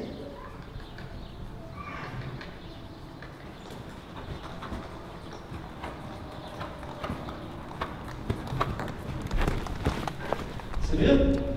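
Horse hooves thud rhythmically in a show-jumping riding lesson, steady clip-clop beats growing louder and nearer toward the end, under someone talking.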